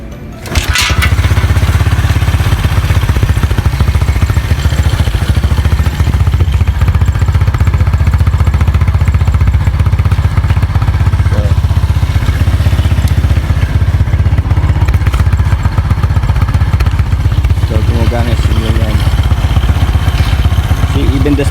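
A homemade tractor bike's engine runs loud and steady at idle, a constant low rumble with some rattling and clatter, starting up just after a quieter opening moment.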